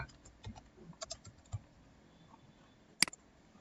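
Key taps on a computer keyboard while someone types a short word into a web form, a loose run of soft clicks with one sharp louder stroke near the end, close and quiet with no talk.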